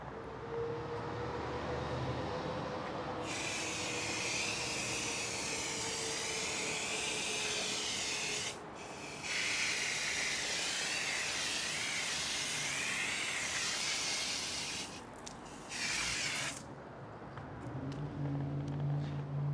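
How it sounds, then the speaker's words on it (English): Water spray rinsing a car wheel, a loud continuous hissing jet that cuts out briefly a few times before resuming, with a low motor drone beneath. "now we're ready to rinse the surface and check our work"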